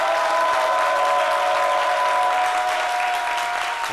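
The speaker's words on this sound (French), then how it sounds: "Mesdames et messieurs, on va donc applaudir pour notre invité" A TV studio audience applauds a departing show guest, steady dense clapping filling the whole stretch at even loudness with a faint tonal hum running underneath.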